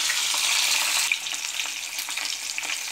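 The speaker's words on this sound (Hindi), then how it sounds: "गोभी को मैं चलाते हुए अच्छे से फ्राई कर लूँगी, बिल्कुल लाल अच्छे से पक जाए।" Cauliflower fries in hot oil in a kadai on a medium flame. A steady, close, hissing sizzle is broken by scraping stirs that shift the sound partway through, and no one speaks.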